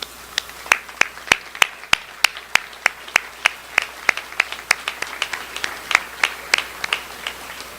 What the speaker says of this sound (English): Sponsors, if you're here, please stand for a round of applause